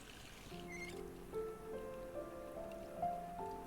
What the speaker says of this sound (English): We run water into the tub.